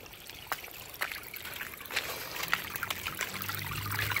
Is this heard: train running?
no